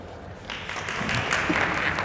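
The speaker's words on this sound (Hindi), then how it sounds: "एक बार इसके लिए तालियां हो जाएं" Classroom applause for the top scorer of a UPSC coaching test, starting after a brief pause and building into steady clapping from a room of students.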